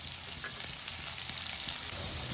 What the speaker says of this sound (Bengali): আলুগুলো এখনো ঠিক মতো ভাজা হয়নি, আর একটু লাল করে ভেজে নিতে হবে।